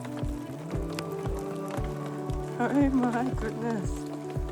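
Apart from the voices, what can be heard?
rain falling at a homestead during a storm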